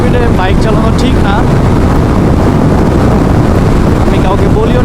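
A GPX Demon motorcycle ridden at high speed is buried under a loud, continuous roar of wind buffeting the microphone, while a rider's voice talks intermittently over it.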